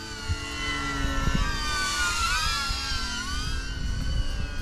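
An FMS Kingfisher beginner RC airplane making a flying pass, its electric motor giving a high whining drone that shifts in pitch as it moves past, heard outdoors at moderate distance with low wind rumble.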